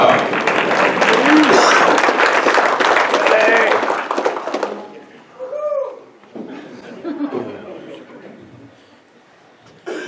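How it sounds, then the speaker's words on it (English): Banquet audience applause at a motorsports park awards dinner, a loud dense burst of clapping mixed with laughter and chatter for about five seconds, then fading into scattered chuckles and talk. "Big round of applause for Teddy Masco."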